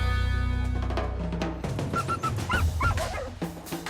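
Hank, a hunting dog out on a shotgun bird hunt, lets out a run of short yips, whines and whimpers close by over rustling and a steady low background rumble.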